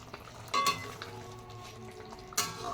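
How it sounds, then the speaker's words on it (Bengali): Fish curry with ginger, cumin, chilli, tomato, onion and garlic simmers in a pan with a low, steady sizzle, broken by two brief clanks of a utensil against the pan. "আর এখানে মাছের ঝোল হচ্ছে।"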